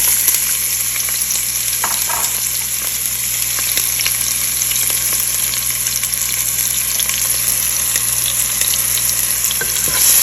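Steady, close sizzling of onions frying in a hot pan for bhindi (okra), with occasional stirring scrapes and a constant hiss throughout.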